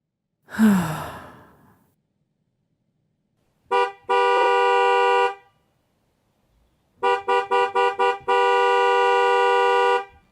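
Car horn honking in the video game Cabernet as a ride arrives: a short toot, then a longer blast, later a quick burst of five rapid honks followed by a sustained hold, loud and close over silence, preceded by a breathy sigh.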